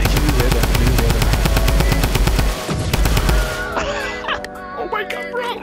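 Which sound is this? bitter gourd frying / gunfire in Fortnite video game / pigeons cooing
gunfire in Fortnite video game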